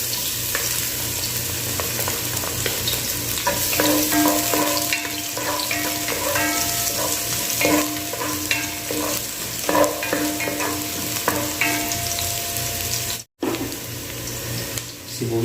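Ginger and garlic sauté in hot oil in a pan as the base for ginisang monggo, with steady loud sizzling and occasional scraping stirs and no talking.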